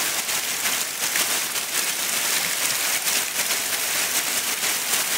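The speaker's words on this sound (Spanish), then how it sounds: "Ahora sí está lloviendo artistísimo, miren." Heavy rain falls steadily near a swollen river, a dense, even hiss that stays constant throughout with no voices.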